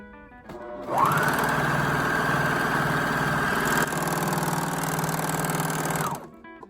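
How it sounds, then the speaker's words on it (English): A Juki MO-654DE serger runs steadily for about five seconds, stitching through test fabric with a loud, even motor whir and a rapid mechanical chatter. It starts and stops abruptly, with no talk. "Let's just take a piece of test fabric, put it under the presser foot."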